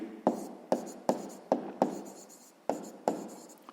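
A pen writes by hand on paper while working a sixth-grade math exercise, making close, crisp scratching strokes in a quick series of about eight short bursts, each one fading quickly.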